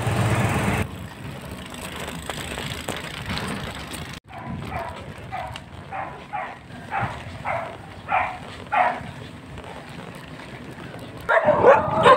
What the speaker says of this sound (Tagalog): maririnig na ako ay hinabol ng mga aso